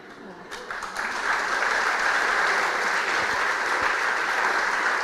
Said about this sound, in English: we're hearing applause